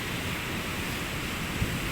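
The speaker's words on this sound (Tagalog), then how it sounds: "Ang lalaki ng alon." Large high-tide ocean waves about six feet tall roll onto a beach, a continuous broad roar of surf with no voices and no distinct breaks, steady and close.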